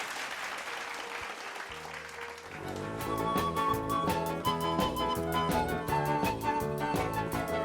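Audience applause at a Kuyay Raymi community pageant in El Cercado, greeting a candidate. The clapping is steady and moderately loud, with music starting partway through and carrying on under it.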